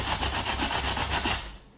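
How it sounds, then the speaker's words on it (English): Steady back-and-forth sanding strokes on drywall, a rhythmic rough rubbing about eight passes, fairly close, fading out at the end. "some of it you can take care of just by sanding"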